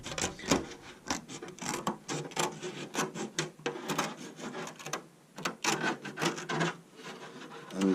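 Blade cutting a Tamiya Lancia Delta Integrale RC body shell near the cut line, a rapid series of close scraping, rasping strokes with uneven rhythm and brief pauses.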